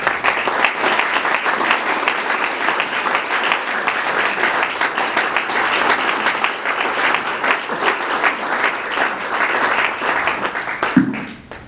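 An audience breaks into steady applause to welcome keynote speaker Arlen Christenson at a Wisconsin water event, dense clapping filling the room for about eleven seconds before tapering off.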